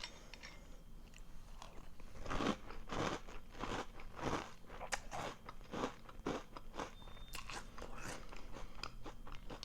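Close, repeated crunching as H-E-B Cocoa Caramel Puffs cereal is chewed from a bowl, with sharp crackly bites in an irregular rhythm and no talking.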